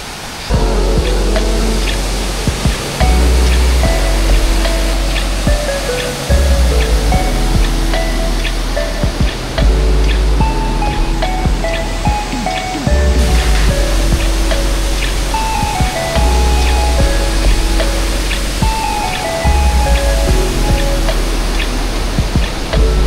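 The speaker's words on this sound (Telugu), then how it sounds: "so witness the beauty of Polluru water falls" Polluru waterfall in Andhra Pradesh roars with a loud, steady rush of falling water, dense and continuous throughout with no break, close and overwhelming.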